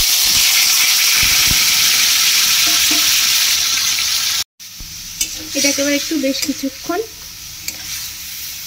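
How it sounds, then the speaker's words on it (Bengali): Marinated chicken fries in hot oil in a wok, giving a loud, steady sizzle and hiss that cuts off abruptly; afterward a nearby voice talks over quieter frying and stirring. "তো এবার ম্যারিনেট করে রাখা চিকেনটা দিয়ে দেবো তেলে।"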